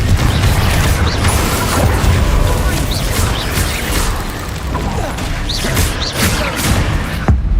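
Confringo fire spells bursting during a Hogwarts Legacy video game battle, a dense run of crashing blasts and booms over continuous mechanical clatter, with a sharp thud near the end.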